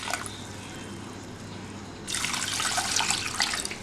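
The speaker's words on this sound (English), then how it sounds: "I am going to add 2 glasses of water to this." Two glasses of water poured into a pot of chopped ingredients with neem leaf, cinnamon and tulsi leaf, a quiet trickle that turns into a louder, splashing pour about halfway through, close and alone.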